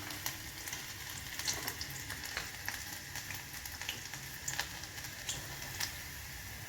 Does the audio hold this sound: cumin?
yes